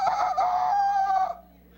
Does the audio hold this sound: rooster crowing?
yes